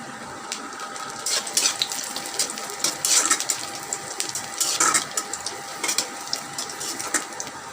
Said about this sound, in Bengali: এবার আমি এর মধ্যে শুকনো মরিচ দিয়ে দেবো তিনটা শুকনো মরিচ আমি মাঝখান দিয়ে চিড়ে দিয়েছি